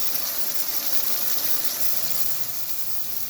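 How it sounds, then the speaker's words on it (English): Steak searing in hot fat in a pan before braising for beef ragu, a steady, loud broadband sizzle and hiss running evenly throughout with no talking. "So I just want the entire steak to have a nice sear on it."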